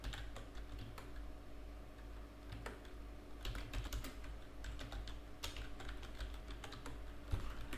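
Rapid, steady clicking of keystrokes on a computer keyboard while HTML code is typed, with occasional heavier key presses standing out; close by, no voices.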